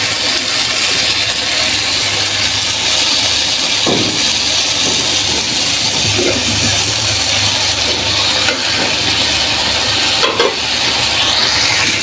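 Rice fries in a pan with a constant, dense sizzle, broken by a few sharp scrapes and knocks as it is stirred.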